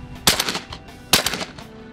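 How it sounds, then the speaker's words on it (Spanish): Shotguns fire during a dove hunt in Argentina: two sharp, loud blasts about a second apart, each followed by quick echoing cracks of other guns in the distance. "Si algo tiene cazar en Argentina, es la cantidad de disparos que se pueden realizar en muy poco tiempo"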